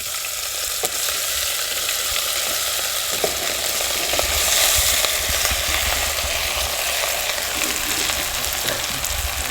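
Muthiya dumplings made with drumstick (moringa) leaves drop into hot oil already tempered with hing and curry leaves, setting off a loud, steady sizzle and crackle that continues unbroken, with no voices over it.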